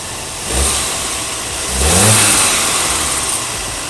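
Audi A5 Sportback 40 TFSI with a 2.0 turbo engine revved indoors, two quick rises in engine pitch over a steady idle, with no talking.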